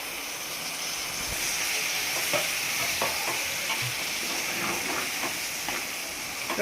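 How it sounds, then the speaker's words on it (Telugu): Four tomatoes go into a pan of prawn masala, setting off a steady, close, loud sizzle with the scrape and clatter of stirring throughout and no voices. "నెక్స్ట్ ఇక్కడ 4 టమాటోస్ని యాడ్ చేస్తున్నామండి"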